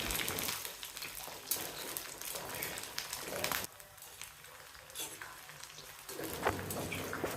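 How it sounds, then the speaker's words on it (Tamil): Onion, garlic, green chili and curry leaves sauté in a pan with fenugreek for fish curry, giving a quiet, steady sizzle and crackle with occasional stirring scrapes. "கொஞ்சம் வெந்தயம் சேர்த்து தாளிச்சிட்டு வெங்காயம் பூண்டு பச்சை மிளகாய் கருவேப்பிலை எல்லாம் சேர்த்து கொஞ்சம் வதக்கணும்."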